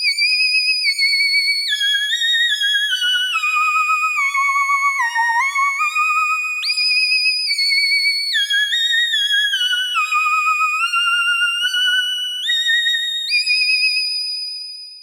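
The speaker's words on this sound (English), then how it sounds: "So a whistling sound" Yamaha CS-15 analogue synthesizer playing a whistling patch, a pure, high, sliding whistle-like tone moving through gliding melodic steps, loud and steady throughout with no other sounds.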